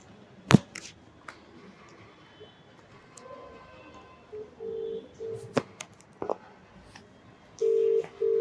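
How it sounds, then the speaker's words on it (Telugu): A telephone call is placed: scattered taps and clicks, then steady electronic ringback tone bursts repeating near the end, moderately loud and close with no speech. "ఫస్ట్ అయితే తనకు కాల్ చేద్దాం"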